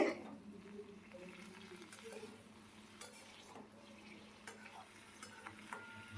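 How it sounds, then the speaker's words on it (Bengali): Snake gourd fries unsalted in a pan while being stirred and turned, with soft sizzling under scraping and light clinks of the utensil, all fairly quiet and close. "ওপর থেকে নাড়াচাড়া করে চিচিঙ্গাটা ভেজে"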